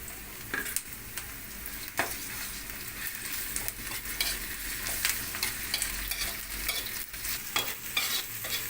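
Shrimp paste stirred in a hot pan, sizzling and frying steadily while a utensil scrapes and knocks against the pan in irregular bursts, close and fairly quiet with no talk.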